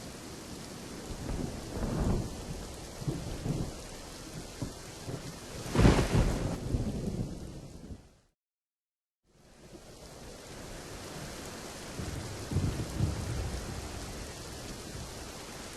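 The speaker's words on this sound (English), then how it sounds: "I went back to sleep as the thunderstorms grew louder." Steady rain hisses throughout while thunder rumbles roll in, one loud crack in the middle, broken by a brief moment of silence.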